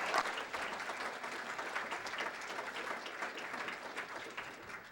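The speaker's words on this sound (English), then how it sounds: "Clap your hands if you understand." An audience claps hands at an Indigenous language symposium, a thick, even wash of many people applauding continuously without pause.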